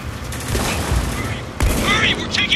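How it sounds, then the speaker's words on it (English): Heavy gunfire in the video game Spec Ops: The Line, with dense, continuous bursts of automatic fire and sharp impacts layered into a loud firefight. A second intense volley kicks in partway through. "Hurry, we're taking heavy fire."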